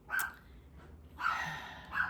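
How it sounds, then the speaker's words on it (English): Dogs at home bark at someone at the door: two loud bursts of barking, a short pause and then a sustained run of barks, fairly close and with no talk over them. "sorry about the barking"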